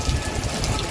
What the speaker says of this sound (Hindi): अब बारिश तेज आ रही है